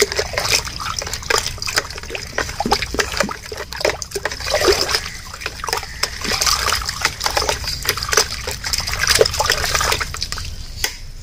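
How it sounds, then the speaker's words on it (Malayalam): Eggshell powder being stirred into water, producing a steady close sloshing and trickling of liquid with rapid small splashes throughout and no talking. "എന്നിട്ട് അതിലേക്ക് നമുക്കൊരു രണ്ട് സ്പൂൺ കേട്ടാ, രണ്ട് സ്പൂൺ മുട്ടത്തോടിൻ്റെ പൗഡർ ഇടാൻ നന്നായിട്ട് ഇളക്കാം."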